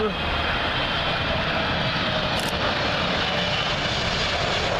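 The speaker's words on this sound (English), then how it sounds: "British Airways 777, arriving in from" A British Airways Boeing 777 on approach to land at Heathrow runway 27L gives a loud, continuous jet roar passing close overhead, steady throughout.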